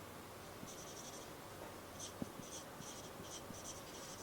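Pen or marker scratches across a board or paper during a classroom lesson, a series of faint, quick scraping strokes in an uneven rhythm against a quiet room hiss.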